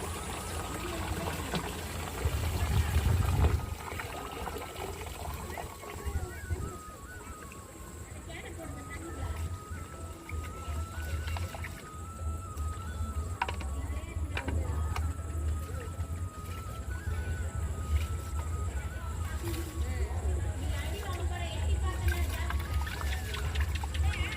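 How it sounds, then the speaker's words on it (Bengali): Rice being washed three times in water beside a running tap, with continuous splashing, sloshing and trickling up close and a voice talking over it. "আমি চালগুলোকে ভালো করে ধুয়ে নিচ্ছি একবার দুবার করে তিনবার আমি চালটাকে ধুয়ে নিলাম"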